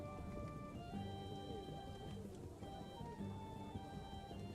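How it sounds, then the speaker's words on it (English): Steady rain falling, a constant soft patter and hiss heard alone at low level, with faint musical tones running through the background. "I can't hear anything. It's raining."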